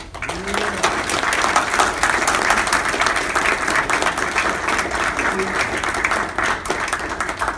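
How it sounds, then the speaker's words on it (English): A crowd at a USA Boxing National Junior Olympics event in West Virginia applauds their president, a loud, continuous wash of clapping that swells and holds, with a voice briefly audible within it. "I think we all owe a great round of applause to John Brown, our president"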